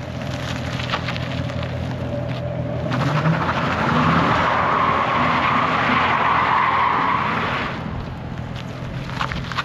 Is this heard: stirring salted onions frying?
no